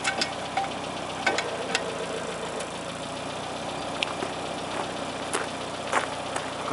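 A 1971 Citroën DS 21 IE idles steadily while it rises on its hydropneumatic suspension during a jackless wheel change, a low, even engine hum broken by scattered faint clicks and ticks.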